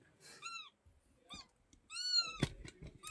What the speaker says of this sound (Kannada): ಇದೊಂದು ಬೆಕ್ಕು ಸ್ವಲ್ಪ ಹುಷಾರುಂಟ